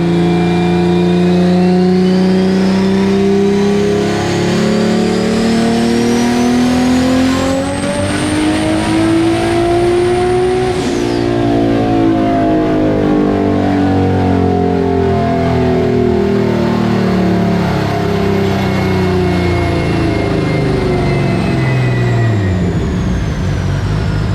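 A tuned Toyota Supra making over 1,300 wheel horsepower on high boost roars through a dyno pull, engine note climbing steadily, dipping briefly, then rising again, loud and continuous with no voices.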